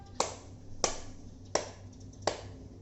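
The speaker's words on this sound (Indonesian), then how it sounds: "Tepuk tangannya 3 kali, bukan 4." Four sharp hand claps, evenly spaced and fairly close, with a low steady hum underneath and no talking.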